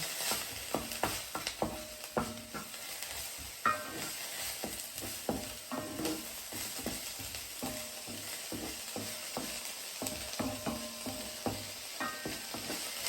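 Shrimp fried rice sizzles and is stirred in a Le Creuset balti dish, with a steady frying hiss broken by repeated scraping and clinking strokes of the utensil, fairly quiet and close.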